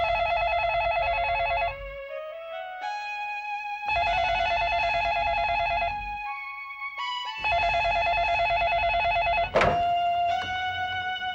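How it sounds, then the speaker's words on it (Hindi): A telephone rings in a home setting in a TV drama, repeated electronic ringing bursts in a steady pattern with short pauses, loud and close, and a single thunk near the end as the handset is picked up. "शिवानी, तुम्हारे पापा का फोन।"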